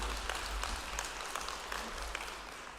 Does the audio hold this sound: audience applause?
yes